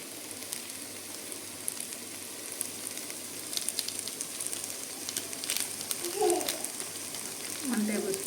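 Spices for paneer biryani sizzle in hot oil as a faint, steady crackle with occasional louder pops, while a voice talks over the cooking.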